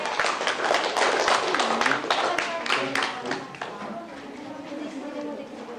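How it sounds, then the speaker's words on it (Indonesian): Audience applause in a classroom setting, a burst of many hands clapping near and loud that gradually thins out, with talk mixed in. "tepuk tangan untuk Flat Production"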